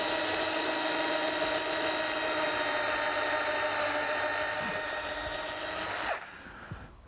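A power drill whines steadily while boring a hole beside a rail of an O gauge Lionel model train track, a sustained high tone for about six seconds that then stops abruptly, followed by a few soft clicks.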